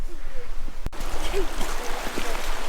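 A mountain stream in Nowy Targ, swollen after several days of rain, rushes steadily as a dense broadband wash of water noise throughout, with a single sharp knock early on.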